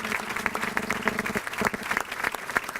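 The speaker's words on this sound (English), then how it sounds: "Could we have a nice round of applause for all of our honorees?" An audience applauds award honorees at a county chamber of commerce business awards event, a steady wash of clapping from a mid-sized crowd with sharper individual claps standing out, fairly close and continuous.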